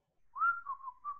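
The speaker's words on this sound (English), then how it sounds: "for the whistling sound to get out" A single person whistles a short wavering tone that dips and holds steady, close and clear against silence, with no talking.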